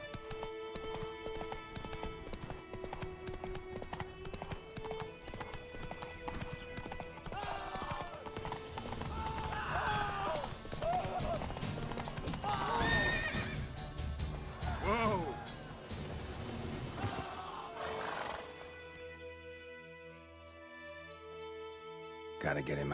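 A horse galloping with rhythmic hoof clip-clops and loud whinnying neighs in The Witcher 3, with game music and voices talking over it.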